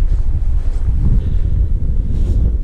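Strong wind buffets the microphone beside a river during the opening day of the salmon season, a loud, continuous low rumble with gusty swells and no speech.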